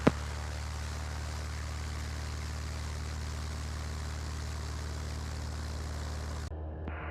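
A small propeller airplane departs runway 16 at Roberval, its steady droning engine heard from inside the aircraft as one continuous loud hum with no talk, dropping off abruptly near the end.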